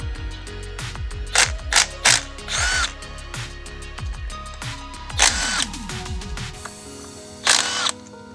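A ratchet removes the shifter from a Mazda B2200 pickup's transmission in a home garage. It makes several short, close bursts of rapid clicking, separated by brief pauses, with no talking.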